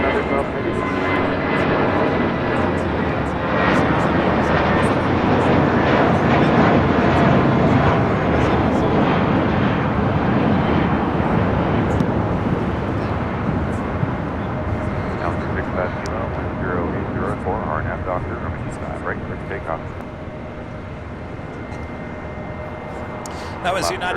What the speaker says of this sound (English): That was United Airlines flight 1185 heading to Cabo in an A320